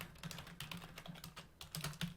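Code being typed on a computer keyboard, a quiet, close patter of irregular keystrokes with brief pauses between bursts.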